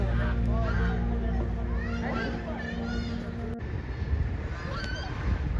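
Ducks honk and quack from a pond, heard amid steady crowd babble and people chatting nearby, with several calls rising over the background hum.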